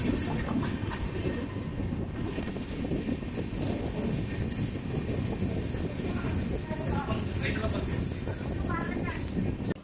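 Nellai Express passenger train running on rails, a continuous loud rumble and rattle of carriages with wind buffeting the microphone and rhythmic clatter throughout.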